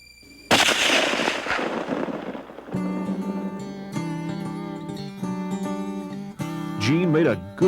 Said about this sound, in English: Gene made a good shot on the buck